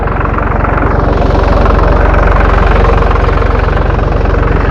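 A Same tractor engine idles steadily up close, a low, even chugging rumble with no change in pace.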